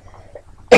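A single loud, harsh cough bursts out near the end after near-silence, close to the microphone, from a person with a bad morning cough.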